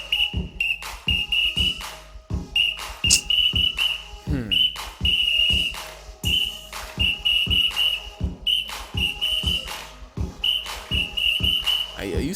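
A woman at a club blows a shrill whistle in short rhythmic bursts over thumping music with a steady beat, the whistle blasts loud and repeated throughout.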